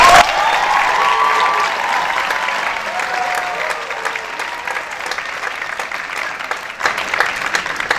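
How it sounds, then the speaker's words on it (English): A large audience at a high school musical applauds loudly and steadily throughout, with dense clapping and a few faint cheers. "Let's give them a huge round of applause."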